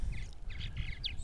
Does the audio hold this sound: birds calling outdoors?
yes